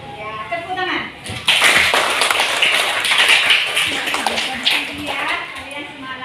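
Children clapping together in a classroom during a lesson, a sustained bright patter of many small hands close by, with kids' voices mixed in.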